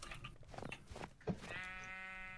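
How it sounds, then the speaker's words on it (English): Sheep bleating in a Minecraft-style multiplayer game, a sustained, tonal bleat rising out of game noise near the end after a short burst of clicks and hits. "I'm gonna kill all these sheep except for this pink one."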